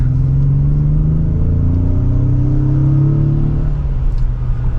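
A 2025 Ford Explorer Active accelerates hard in sport mode, its engine note rising steadily in a loud, continuous drone from inside the cabin, then easing slightly toward the end.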